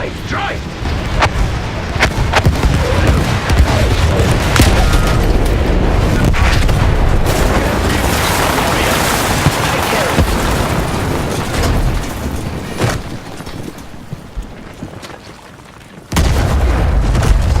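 Battlefield 1 artillery barrage, heavy booming blasts and rumbling explosions rolling almost continuously over the battlefield, loud and close, with shouted voices and combat noise mixed in before an abrupt drop and sudden return.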